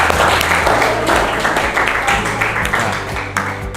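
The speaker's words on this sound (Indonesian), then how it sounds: "tepuk tangan dulu untuk" Applause from an audience at an Indonesian talk on weather and climate, a dense, steady wash of clapping held at full loudness for the whole stretch with a low hum beneath.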